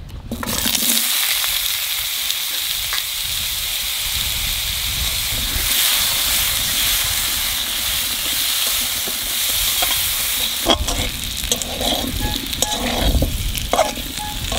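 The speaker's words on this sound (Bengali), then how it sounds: "আলু কটা একটু ভেজে নেব" Steady, loud sizzling of food frying in a pan continues throughout, with occasional stirring and scraping sounds.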